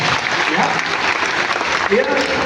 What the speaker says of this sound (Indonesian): Yang percaya kasih tepuk tangan yang paling meriah buat Tuhan.